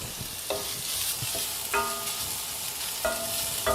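Finely chopped onions sizzle in a hot pan for palak paneer under a constant hiss, with a few clinking scrapes of a utensil stirring them.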